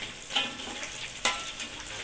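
Beef empal frying in a pan, a steady close sizzle with a couple of sharp scraping stir strokes, no talk over it.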